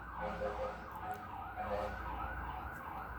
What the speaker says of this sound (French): Vous voyez, il y a un véhicule d'urgence à l'extérieur.